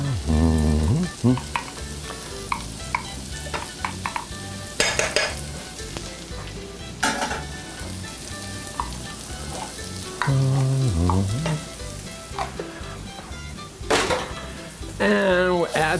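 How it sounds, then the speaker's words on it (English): Tomato paste fries in a pot with a loud, continuous sizzle while a utensil stirs and scrapes it, giving intermittent clanks and knocks against the pot. "And we'll add this now and stir this together."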